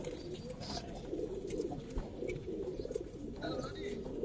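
Colouring pigeons on a farm coo in soft repeated low murmurs, close by, with scattered chirps and faint background voices mixed in.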